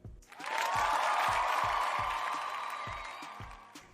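Studio applause and cheering sound effect greeting a podcast guest, a dense crowd of clapping and cheers swelling in quickly and holding steady, then slowly tapering over about four seconds.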